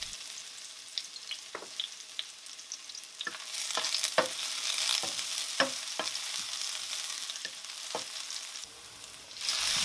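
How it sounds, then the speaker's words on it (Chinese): Minced scallion and ginger fry in hot oil in a wok, a continuous sizzle broken by sharp scrapes and taps of the spatula as the mix is stirred at irregular intervals. "油热之后，先下葱姜末炒香。"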